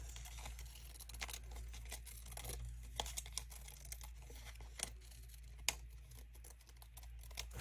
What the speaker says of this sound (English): And then I'm going to rip this off.